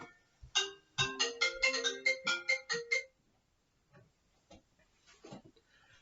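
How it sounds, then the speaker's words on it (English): A cell phone rings in a quiet room during a Bible study, a quick melodic ringtone of about a dozen bright notes lasting a few seconds, then near silence with faint rustling. "I forgot to silence my cell phone"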